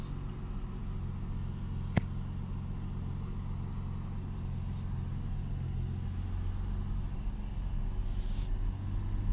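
A 2025 Ford F-150 Raptor pickup drives in normal mode, heard from inside the cab as a steady low engine and road rumble with one brief click near the start.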